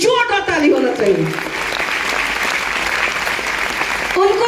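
An audience at a DXN meeting bursts into loud, sustained applause filling the room, with a speaking voice briefly heard at the start and again at the end.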